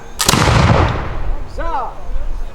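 Militia reenactors fire a musket volley at a Revolutionary War demonstration, producing one loud close blast that rings and decays over about a second, followed by a shouted voice.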